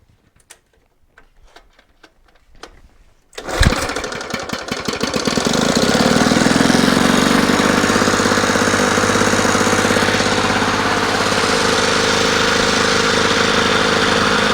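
A Lawn Boy D-400 lawn mower engine, freshly fitted with a new exhaust gasket, gives a few faint ticks and then fires up loudly and settles into a steady, sustained idle close by.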